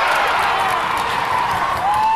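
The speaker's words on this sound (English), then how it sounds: "Hundreds are gathered at the local arena in Manioutenam to cheer their favorite team." A large indoor crowd at an amateur hockey tournament in a local arena keeps up a loud, continuous roar of cheering and chatter, reverberant and steady throughout.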